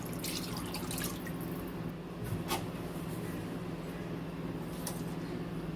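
Liquid soup pours steadily into a dish with a soft, continuous wet rush over a low background hum, plus a couple of faint clinks.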